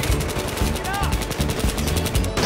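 Rapid automatic gunfire fired from the hip in Battlefield 3, a dense, steady stream of loud shots running continuously throughout with a brief voice-like tone mixed in.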